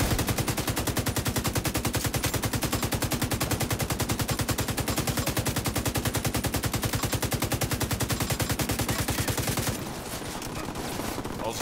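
Rapid automatic gunfire from The Division 2 video game rattles on in one long unbroken burst at a fast regular rhythm, loud and dense, then cuts out near the end, leaving softer scattered shots.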